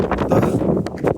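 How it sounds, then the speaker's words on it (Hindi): Wind gusting across an exposed hilltop on the Gurpa Hills trek in Bihar, a steady low rumble of buffeting against the microphone with loud, continuous surges and no clear voices. "और कितना मस्त हवा चल रहा है"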